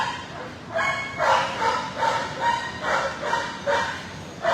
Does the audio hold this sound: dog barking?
yes